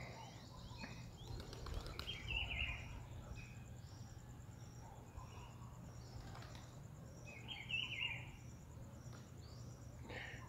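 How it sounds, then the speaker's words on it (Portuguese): At dawn in Álvaro Weyne, Fortaleza, Brazil, faint bird chirps rise twice over a low hum and steady insect-like background buzz, distant and quiet with no talk. "para que vocês possam ouvir o cântico dos pássaros"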